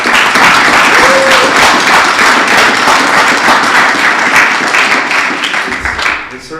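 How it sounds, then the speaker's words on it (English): A big round of applause at a school district board meeting, loud dense clapping with a few cheers, sustained and then tapering off toward the end. "Let's have another huge round of applause for our second A school in the district."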